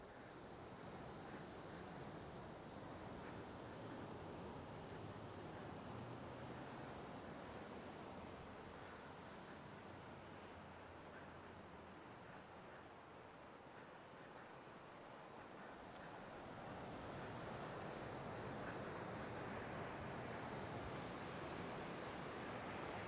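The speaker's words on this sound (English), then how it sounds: "Now I can hear the waves here." Ocean surf rolls onto the beach at Vila Franca do Campo in the Azores, a steady roar of breaking waves with wind buffeting the microphone, swelling louder toward the end, no voices.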